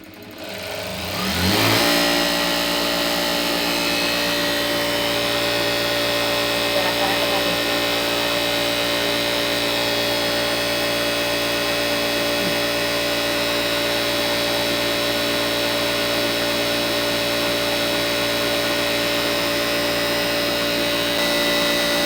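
A sewing machine stitching a blouse whirs at a steady, even speed after a brief start, a continuous close mechanical hum with no pauses.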